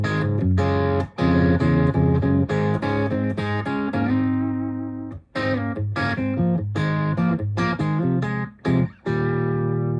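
An electric guitar played through a Revv D20 amp on a dry setting, with no effects, sounds close and loud as chunky driven riffs and chords alternate with brief pauses and a sustained lead note.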